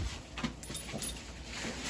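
A dog whimpers and whines softly at close range in a crawl space during a hot water storage tank install, making short, faint cries and snuffles with no talking.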